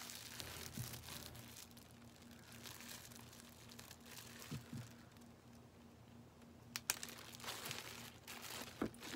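Faint crinkling and rustling of a polythene bag on a doll, close and quiet, with a few sharper crackles near the end over a low steady hum.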